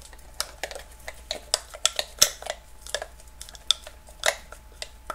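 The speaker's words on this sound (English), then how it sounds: "now we'll give it a good stir" A utensil is stirred through thick sourdough starter in a bowl, giving irregular close clinks and scrapes against the sides with brief gaps of quiet.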